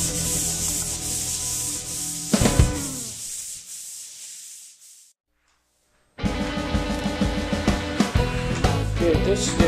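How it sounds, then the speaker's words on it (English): Sandpaper rubs across a metal surface in preparation for epoxy primer, a close, raspy scraping in long strokes that stops for about a second of silence before resuming more vigorously. "You just want it to feel like fine sandpaper, just so there's enough of a bite for the primer that we're going to put on there."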